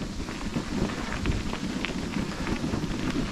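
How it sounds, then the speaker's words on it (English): Wind through trembling yellow autumn poplar leaves, a steady soft rustling hiss like light rain, low and even throughout, with no voices. "You can hear them trembling in the wind."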